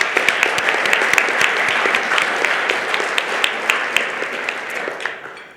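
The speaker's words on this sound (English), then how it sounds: "Let's give them all a round of applause." Round of applause from the audience at a state innovation awards event, loud, dense clapping close by with crisp individual claps on top, sustained and then tapering off near the end.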